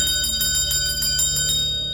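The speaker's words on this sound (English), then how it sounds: "The bell rang at 8:45 p.m." A bell rings rapidly and repeatedly in a bright, ringing trill with sustained shimmering tones, loud and close, then cuts off near the end, with no voices. It serves as a sound effect in a period audio drama.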